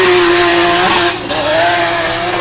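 BMW E46 drift car running red tyres, competing on track in British Drift Championship Pro-Am qualifying at Teesside: a loud, sustained high-revving engine howl with shifting pitch, steady and close throughout.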